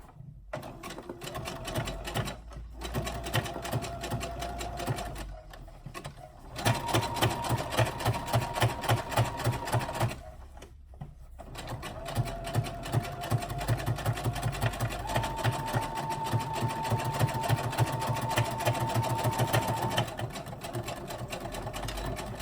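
Sewing machine running a line of top stitching: a close, fast, steady mechanical whirring in several runs, pausing briefly between them, with no talk.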